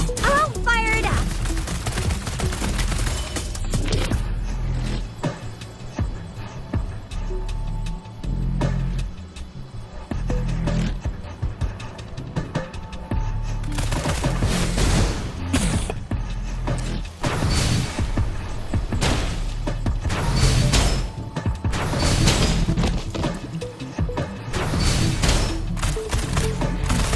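Bursts of gunfire from the video game Weathering Adventurer crackle in dense volleys over a busy game soundtrack, growing heavier and more rapid in the second half.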